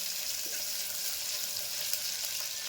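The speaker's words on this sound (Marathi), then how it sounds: "कांदा कसा जरा तेलात छान फ्राय करून घेतले" Onion frying in hot oil in a pan for masala rice, a steady close hiss and sizzle with faint stirring, no voices.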